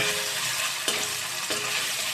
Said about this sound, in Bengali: আমি পনিরটা প্রথমে হালকা ভেজে তুলে রাখবো